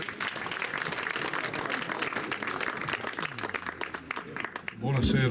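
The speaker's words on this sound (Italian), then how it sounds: "Un applauso a Piero." Audience applause at a public event in Sardinia, with moderate, steady clapping from a crowd lasting several seconds before a voice begins speaking close to the microphone at the end.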